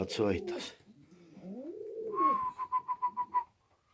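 Homing pigeons coo close by: a low, rising-and-falling coo followed by a quick pulsing run of notes, with a brief voice at the very start.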